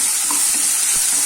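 Chopped tomato for sambar sizzles in a hot pan, a brief, loud and steady frying hiss heard alone.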